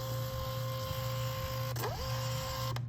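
A label maker printer for walk-up name tags feeds label stock to find the seam, a steady close motor whir with a brief shift in pitch midway before running on.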